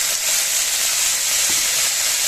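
Pointed gourd (potol) fries in a hot pan with sugar, giving a steady, close broadband sizzle that holds even throughout, with a faint stir or scrape near the middle.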